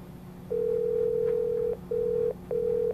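A telephone rings at home with steady electronic tones, one long tone followed by two shorter ones, fairly clear over a quiet background.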